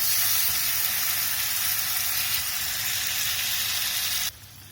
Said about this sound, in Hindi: अब इसमें ऑयल छोड़ दिया, जब हम इसमें मछली फ्राई के लिए रख देंगे।